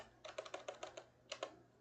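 A computer keyboard typing a short command, a quick run of faint close keystrokes, a pause, then two more taps.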